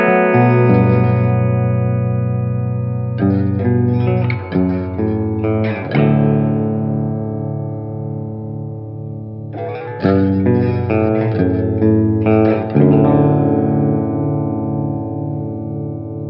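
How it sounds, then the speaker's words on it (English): An electric guitar runs through an EAE Hypersleep v2 reverb pedal, an Apollo X6 interface and a JMP 2203 amp plugin, set for a subtly modulated, cavernous reverb. Sustained chords ring out alone in two phrases, each trailing long, washy tails. "for this first section, we're going for a subtly modulated kind of cavernous reverb"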